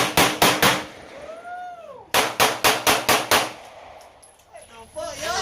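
Sharp gunshots at an outdoor gun range, one rapid burst of three, then after a pause a quick run of six loud cracks, with faint voices between and after them.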